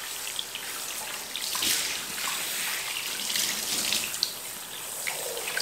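Water runs steadily over hair as shampoo is rinsed out before conditioner goes on, a close, continuous splashing wash with no talk.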